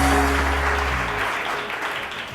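A studio audience at a morning TV show breaks into a short burst of dense clapping that fades slightly as it continues, heard close with no talking.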